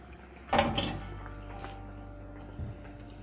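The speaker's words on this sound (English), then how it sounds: "So you carefully place your mahamri so that you don't burn your fingers." Mahamri dough pieces placed into hot oil: a sudden splash and burst of sizzling, then a steady bubbling hiss of frying that continues, with a small clatter of a utensil near the end.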